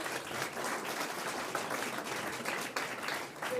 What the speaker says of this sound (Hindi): जोरदार तालियों से स्वागत कीजिए, अभिनंदन कीजिए।